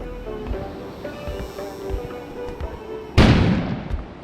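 Sudden loud explosion outside, a deep boom that bursts in after a few seconds of quieter low rumbling and then decays slowly.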